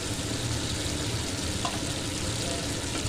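Mustard, salt and turmeric stirred in a hot pan, giving a steady close sizzle and frying hiss throughout with faint scraping, no talk.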